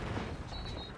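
Gunfire in the Call of Duty Infinite Warfare multiplayer game, a dense continuous rattle of shots and booms filling the whole moment, loud and steady with no voices over it.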